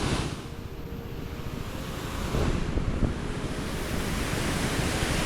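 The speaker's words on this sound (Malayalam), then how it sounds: "അപ്പോൾ ഇത് നല്ല കിടിലം വെള്ളച്ചാട്ടമാണ് കേട്ടോ." A roaring waterfall beside a road gives a broad, steady rush of water, with wind buffeting the microphone and the roar swelling slightly midway, no talk.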